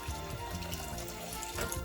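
Water is poured over sugar in a pan for homemade pancake syrup, a steady close splashing trickle with no talking.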